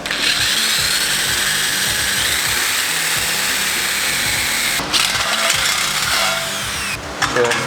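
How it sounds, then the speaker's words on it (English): A power drill bores a half-inch hole during a mini bike build with a Tillotson 212 engine swap, a loud, steady whine with brief pauses and restarts near the end. "basically just drill a 1/2 inch hole and then put in the tool"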